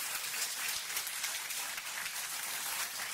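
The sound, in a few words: applause for the Lord in church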